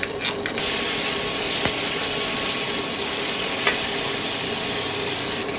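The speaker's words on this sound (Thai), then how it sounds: "ใส่พริกลงไปผัดพริกให้หอมๆนะคะ" Chilies stir-fried in a hot pan for a vegetarian Thai basil mushroom dish, giving a steady close sizzle and frying hiss with a few soft clinks of the spatula against the pan, no talking.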